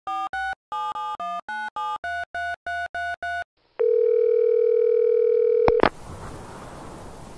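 A phone call dialing out to Sweden, a rapid series of about ten touch-tone beeps, then a long steady tone that cuts off abruptly before a burst of line noise.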